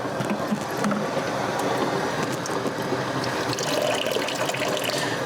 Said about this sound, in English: I'm going to open the valve a little bit on this unit, and you'll see the wastewater is already trickling out